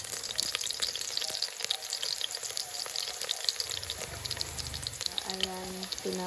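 Garlic sizzles and crackles in hot cooking oil in a home kitchen, a steady close frying hiss that runs throughout, with brief clinks of stirring and faint running water near the end.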